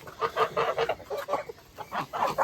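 Geese in a home farmyard give a run of repeated honking and clucking calls in uneven bursts, fairly close and loud with no voices over them.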